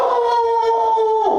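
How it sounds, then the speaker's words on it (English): A dog gives one long, loud howling bark that holds a steady tone, then drops off near its end. "I don't think you guys have ever heard Cooper bark. That's what that sounds like."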